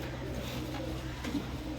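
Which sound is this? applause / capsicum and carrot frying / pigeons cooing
pigeons cooing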